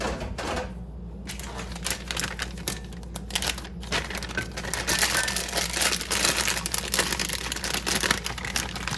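A Wilton pastry bag is handled while being filled with cream filling for donut holes, giving continuous soft plastic crinkling and rustling with scattered light taps and scrapes, close and moderately quiet.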